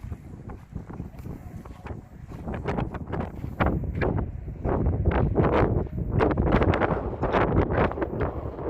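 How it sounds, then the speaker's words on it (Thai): Strong gusting wind buffets a microphone at a land reclamation site built out into the sea in Bahrain, roaring steadily with repeated rough blasts throughout, no voices over it. "แต่ลมแรงมาก"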